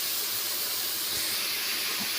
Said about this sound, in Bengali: তার আমি আগে তেলে আগে ভেজে নিচ্ছি, আলুগুলো ভেজেছি, সেই তেলে আগে ভেজে নিচ্ছি ভালো করে মাংসটা